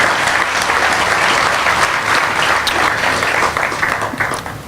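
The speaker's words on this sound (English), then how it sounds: "let's give Century and all of the partners a big round of applause for this amazing facility" A crowd applauds at the grand opening ceremony of Anchor Place, a Century Villages at Cabrillo facility in Long Beach, with steady, dense clapping sustained loud throughout and no talking.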